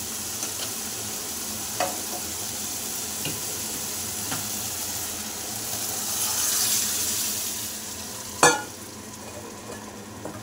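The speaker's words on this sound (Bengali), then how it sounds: "এবার দেখুন বন্ধুরা, সিদ্ধ করা ডালটা, সবজিটা ওর মধ্যে দিয়ে দেবো।" Vegetables go into boiled dal in a pan, giving a soft, continuous sizzle and bubbling with occasional clinks of stirring, faint and close, and one sharper knock near the end.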